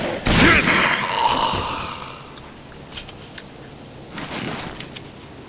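Gunfire in the shooter game Rage: a loud opening burst of shots with a ringing tail, followed by scattered quieter cracks and clatter of in-game action, with no talking over it.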